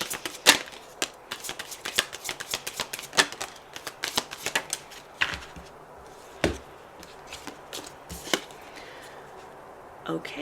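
Message cards are shuffled and drawn in a long, uneven run of sharp snaps and papery flicks, close by, with quieter shuffling between the louder strikes.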